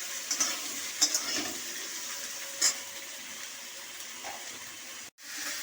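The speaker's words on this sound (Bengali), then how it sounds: "এটা একটু অল্প ভাজা ভাজা করে নেব।" Potatoes frying in a pan with asafoetida, a steady close sizzle broken by a few short scraping stirs, with a brief gap near the end before the hiss resumes.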